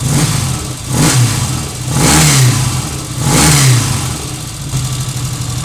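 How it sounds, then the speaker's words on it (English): A rare Norton 650 Unified Twin prototype motorcycle engine, warmed up and ticking over at about 1200 rpm, runs alone close by with a steady throb that swells and eases in slow waves. "We're showing 1200 there, which is what the engine actually does, ticking over when it's warm."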